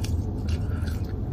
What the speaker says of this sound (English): we go see how these fries tasting